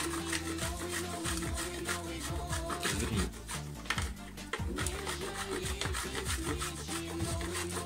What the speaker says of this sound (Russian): Шоколад также трем на терке.